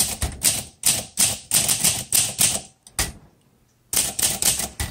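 Keys strike hard on a 1952 Olympia SM3 manual typewriter in quick, crisp bursts, close and loud, with a brief pause before typing resumes.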